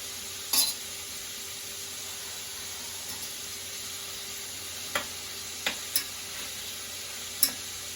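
Meat frying in hot oil in a pot for a Campania-style Sunday ragù gives a steady low sizzle, with a few sharp clinks of a utensil against the pan scattered through it. No one speaks.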